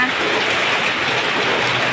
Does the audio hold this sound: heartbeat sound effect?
no